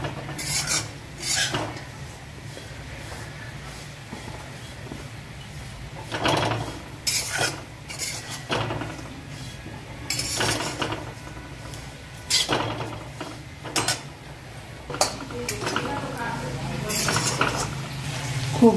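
Grated coconut is dry-roasted to brown in a pan (kadhai) for onion-garlic masala, heard as intermittent scraping and stirring rasps of a spatula against metal, moderately close, with faint background talk.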